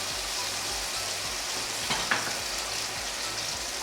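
Onions frying in a pan while preparing hulbata, a steady broadband sizzle held close and continuous, with a brief stir or clink near the middle and no talking.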